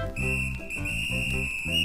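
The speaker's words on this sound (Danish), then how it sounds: "så tager jeg uden at kny min fløjte den blå i munden, og så pifter jeg alt, hvad jeg kan i den" A blue whistle is blown hard in a Danish children's story, one long piercing shrill tone held for nearly two seconds over a pulsing musical backing.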